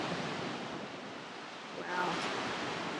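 Ocean surf roars steadily under strong wind buffeting the microphone, with a wave surging louder near the end.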